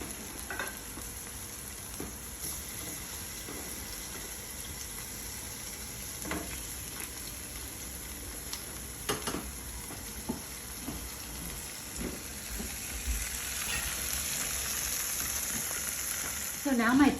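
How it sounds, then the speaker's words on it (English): Pork ribs browning in olive oil, a continuous crackling sizzle like light rain, with scattered pops and soft clinks of a utensil, growing slightly louder toward the end. "And now I'm going to put my pork ribs in and braise them on all sides"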